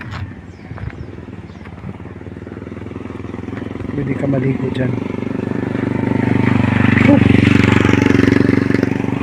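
Motorcycle engine running near a dam, a steady putter that grows louder and fuller as it revs, with someone talking over it at the start.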